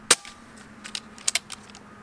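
A modded Umarex Notos air rifle fires one sharp, loud crack, followed by a handful of lighter mechanical clicks and taps.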